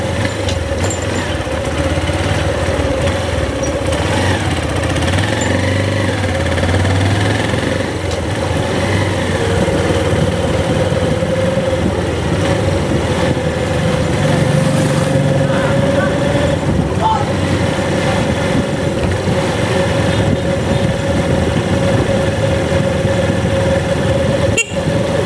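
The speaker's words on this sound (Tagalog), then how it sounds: "may motor dito na" A motorcycle engine idles nearby in a steady low drone throughout, with people talking over it and a brief sharp knock near the end.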